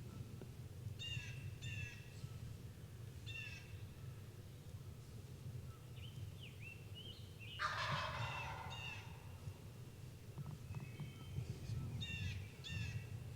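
A wild turkey gobbler gobbles from a distance over a steady low rumble, with a few short rattling gobbles and one louder burst midway.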